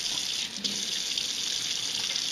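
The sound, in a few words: washing hands under running sink tap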